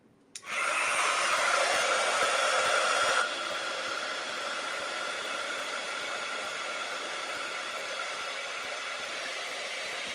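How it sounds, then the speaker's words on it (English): A heat tool blasts a loud, steady broadband whoosh as it melts white embossing powder on a stamped craft image, starting abruptly and easing slightly in level after a few seconds, running continuously to the end. "just going to add my white embossing powder and just melt it down"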